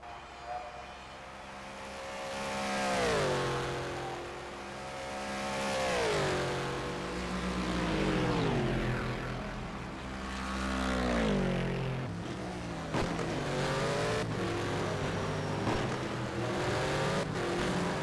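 A race car in a sim racing game lapping Bahrain repeatedly revs up through the gears, engine pitch climbing and dropping in several long waves, loud and close, with shifts and a brief rougher stretch near the end.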